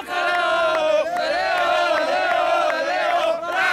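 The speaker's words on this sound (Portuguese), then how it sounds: "Estou com a torcida organizada do vôlei de praia!" An organized crowd of beach volleyball fans roars in a loud, sustained chant with pulsing rhythmic swells, voices blending into a harmonic collective cry close by.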